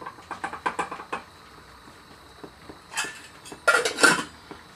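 A pot of four-cheese pasta sauce is set back on the stove, with a run of light metallic clinks and taps followed by louder scraping clatters of cookware, close by.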